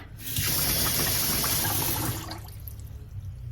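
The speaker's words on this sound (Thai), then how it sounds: "แล้วก็เปิดน้ำใส่ให้ท่วมตัวข้าวเหนียวดีเลยนะคะ" Tap water runs steadily into a bowl of soaking sticky rice, a loud continuous gush and splash that eases slightly toward the end, heard alone with no talk.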